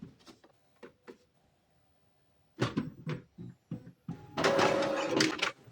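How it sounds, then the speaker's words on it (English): An Epson printer switched back on and printing, giving a series of separate mechanical clicks and clunks, then a short loud burst of whirring carriage and paper-feed movement near the end. "Turn it back on and try printing."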